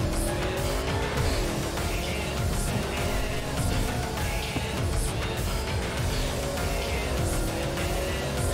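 A car in Cyberpunk 2077 drives at speed with a droning engine whose pitch swoops up and down, while tires squeal repeatedly in rising and falling wails, loud and close.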